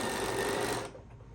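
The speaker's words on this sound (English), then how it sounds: "with a 1/4 inch foot, I'm going to sew down this other side" A sewing machine with a quarter-inch foot runs fast along a quilt pillow seam in a dense, steady whirring drone, then stops abruptly near the end, leaving a faint background hum.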